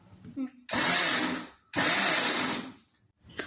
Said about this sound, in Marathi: त्यानंतर आपल्याला मिक्सरला फक्त एकदा फिरवून घ्यायचं आहे